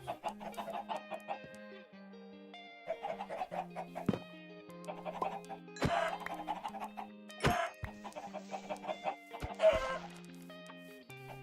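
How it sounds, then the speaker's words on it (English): Chickens in the Minecraft video game cluck repeatedly in short, irregular bursts, with some game effects mixed in and no talking. "Let's get some more chickens."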